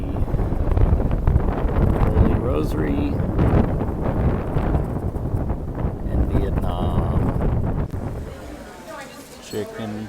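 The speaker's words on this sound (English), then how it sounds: "It is windy." Strong gusty wind buffets the microphone with a heavy low rumble while a person speaks briefly over it.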